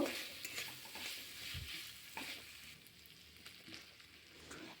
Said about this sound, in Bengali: আদা রসুনের পেস্টটা আলুর সঙ্গে ভালোভাবে কষিয়ে নেব